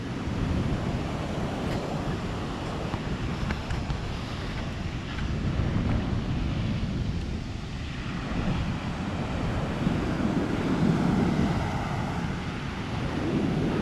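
Ocean waves at Praihna Beach in Itacaré, a continuous low roar of surf mixed with heavy wind buffeting the microphone, with no talking.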